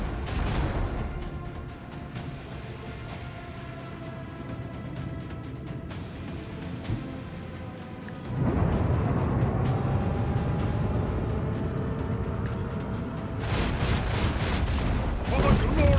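Starship gun batteries firing in the video game Rogue Trader: a low, continuous rumble of heavy fire that swells partway through, with booming salvos and some layered speech.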